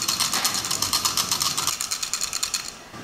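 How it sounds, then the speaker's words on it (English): Glass beads rattle and click across a bacterial culture plate as it is shaken back and forth, a close, bright, rhythmic clatter in repeated pulses that fades near the end. "the beads are rattling around across the surface of the plate"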